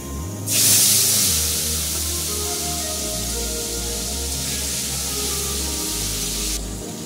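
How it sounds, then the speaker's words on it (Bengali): Prawns dropped into hot mustard oil in a wok, bursting into a loud sudden spitting hiss that settles into a steady, close frying sizzle, with no talk. "এবার সর্ষের তেলটা মধ্যে আমি মাছটা ছেড়ে দিচ্ছি।"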